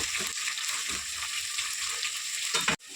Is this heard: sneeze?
no